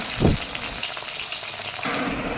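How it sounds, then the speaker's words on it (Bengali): Bata fish pieces sizzle steadily in hot oil in a pan while being fried, with a brief louder burst near the start as the pieces are turned over; the frying hiss stays constant throughout. "মাছগুলো এক পিঠ করে ভাজা হয়ে গেছে, তাই আমি অপর পিঠটা উল্টে দিচ্ছি"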